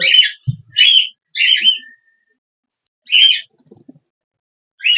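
Cockatiels calling from their nest pot, a series of sharp, high chirps in short bursts with pauses between, fairly close and clear, with a faint low thump and a few soft rustles in the background.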